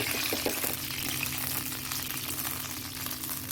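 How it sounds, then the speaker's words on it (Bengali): Water hits hot oil in a pan where a fish head is being cooked, giving a loud, continuous sizzling and crackling that fills the whole stretch. "তেলটার মধ্যে দেখো জল দিয়ে দিলাম"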